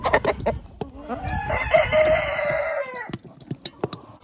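A hen flock on a small home farm, fed on homegrown vegetables, with clucking at the start and a long, loud rooster crow in the middle, then scattered clucks again.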